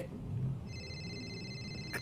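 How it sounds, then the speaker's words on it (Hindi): A phone rings in the GTA 5 video game, a steady electronic ringing tone that starts partway through and holds at moderate level over low game background noise. "चाचा का फोन आ रहा।"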